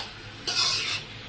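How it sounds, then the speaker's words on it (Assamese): Pieces of swamp eel are stirred and fried in a pan, a short sizzling scrape of about half a second over a quiet frying hiss, close and alone. "এয়া 5 মিনিটমান আৰু অলপ ভাজি ল'লোঁ।"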